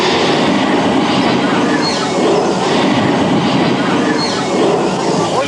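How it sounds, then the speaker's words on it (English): Heavy tropical rain pours down in a bird park's rainforest enclosure, a loud, dense, continuous hiss and roar with no breaks, while a voice briefly talks beneath it. "Oh, it's a downpour, isn't it?"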